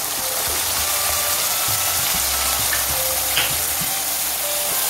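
Vegetables for palak pulao tipped into a well-heated pan and frying, a steady broadband sizzle with scattered clicks and stirring scrapes, close and continuous with no voices.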